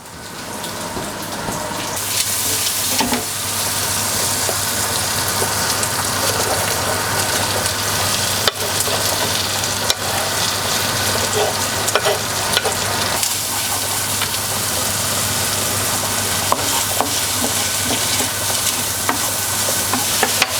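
Chopped onion goes into a hot pan and sets off a loud, steady sizzle after a quieter opening moment. The frying continues evenly, with occasional faint knocks, and no voices are heard.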